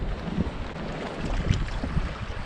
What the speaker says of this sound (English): Wind has definitely picked up even in the short amount of time I've been here.